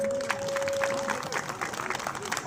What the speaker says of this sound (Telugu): అందరూ ఒకసారి చప్పట్లు ఉండమ్మా.